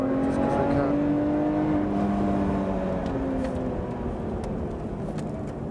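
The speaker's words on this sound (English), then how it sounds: "Let's overtake a Ferrari just because we can." A Lotus Evora GT430 at Silverstone overtakes a Ferrari, its engine droning loud and close with a rising then steadying pitch, a second engine note briefly overlapping before fading slightly toward the end.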